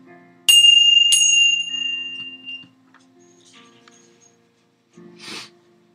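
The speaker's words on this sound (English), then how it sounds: "And now we ring our bells for unity and peace." Two handheld bells are struck during evening prayers, each a bright ringing stroke with a long sustained shimmer that fades over a couple of seconds, followed by a softer ring near the end.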